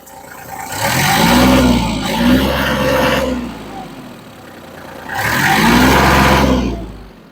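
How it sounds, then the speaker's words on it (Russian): A Kubota GL220 tractor engine runs steadily up close, rising twice into louder revving surges with a quieter idle between them. "Сейчас дам послушать, как работает двигатель."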